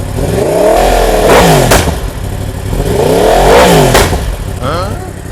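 A Yamaha YZF-R1M motorcycle with a full titanium Akrapovic exhaust revs up twice to about 6,000 rpm in strong rising-and-falling sweeps, loud and close, with a steady idle rumble underneath between the bursts.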